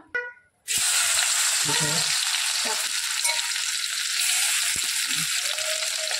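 Seven or eight crushed garlic cloves hit hot oil for an Aagri-style prawn curry, a loud sizzle bursting in after a brief quiet start and hissing steadily throughout, with a few low knocks and stirring sounds underneath.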